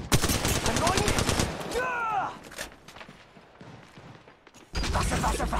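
Automatic weapon fire in the battle royale game Apex Legends Mobile, loud rapid bursts of shots up close, then a break with whooshing effects and quieter sounds before another burst of gunfire.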